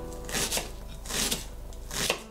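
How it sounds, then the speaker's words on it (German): Rough knife chopping of chili, garlic, ginger and onion on a cutting board, three short bursts of quick cuts separated by brief pauses, fairly quiet and close. "Chili, Knobi, Ingwer und Zwiebel müsst ihr nur grob hacken"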